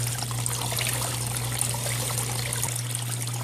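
Water streams steadily through a gold hog mat on a Miller table while gold prospecting in Uwharrie National Forest, a continuous close trickle with a low steady hum beneath and no talk.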